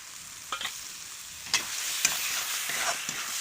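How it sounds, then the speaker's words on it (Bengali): Boiled potato frying in spices in a pan, a soft continuous sizzle broken by a few sharp scraping and stirring strokes, fairly quiet and close with no voices. "এবারে সিদ্ধ করা আলুটা একটু ভেজে নেব"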